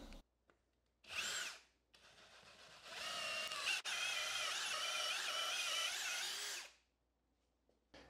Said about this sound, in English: we're ready to drill some holes